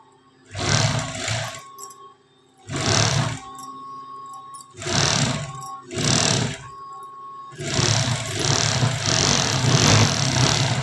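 A sewing machine stitches a sleeve onto a blouse in loud bursts of rapid whirring mechanical stitching, stopping and starting several times with short pauses between runs, close up.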